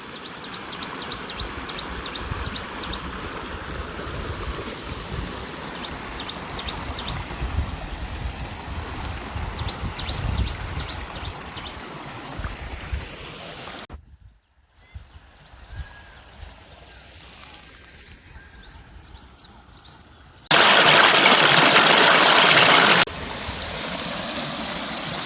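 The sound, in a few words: stream water flowing in a hilly area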